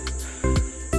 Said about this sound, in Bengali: চারিদিকে শুধু ঝিঝি পোকার ডাক